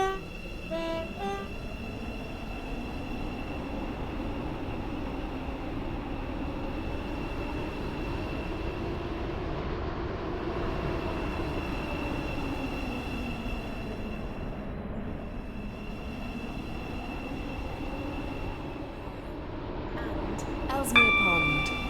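A metro train runs steadily in the Roblox game Stepford County Railway, a continuous rumbling hum with rising and falling motor tones, an automated station announcement speaking over it, and a brief chime near the end.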